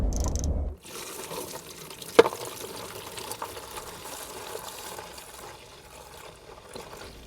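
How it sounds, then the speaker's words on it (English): Coolant pours from the radiator drain plug of a Mazda MX5 in a steady, close trickle of liquid that runs on without a break after a brief louder start. "so that's the coolant draining out"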